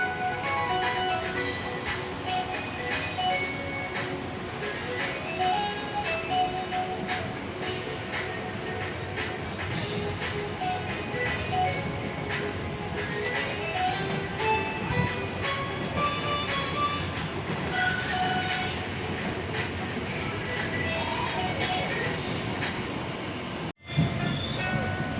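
A commuter train pulls out of Juanda station at night on the Bogor to Jakarta Kota line, heard from on board as a continuous rumble with rhythmic wheel clatter and shifting tonal whine, ending in a brief sharp break.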